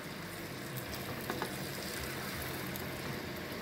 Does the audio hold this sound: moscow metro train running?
no